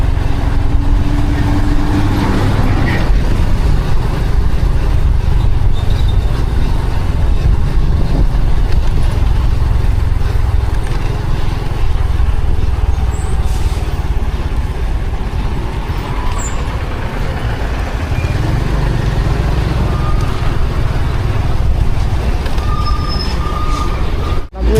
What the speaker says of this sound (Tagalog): Ito yung motor natin, si Tanggol. Yan, XRM125FI natin.